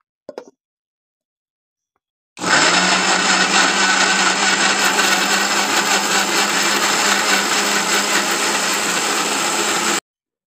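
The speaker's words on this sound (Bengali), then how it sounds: "আমি মিক্সি জারে আলুগুলো সব পেস্ট করে নেবো।" A mixer grinder jar pastes boiled potatoes for homemade cornflour, a steady loud whirring roar that starts abruptly after a brief click, runs unbroken for several seconds, then cuts off cleanly.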